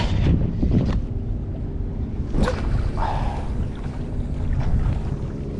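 Steady wind roars and buffets across the microphone on a fishing boat off Long Beach, a continuous broadband rush with gusty swells and a few brief knocks, no talking.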